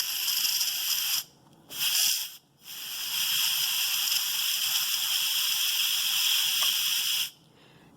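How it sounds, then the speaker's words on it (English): An Instant Pot pressure cooker venting steam through a quick release, a loud close hiss that cuts off and restarts in several short bursts, then holds steady before stopping. "just releasing some of the steam"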